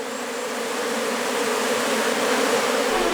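Swarm of honeybees buzzing steadily and loudly in a continuous, dense drone with no break, close to the listener and with no voices.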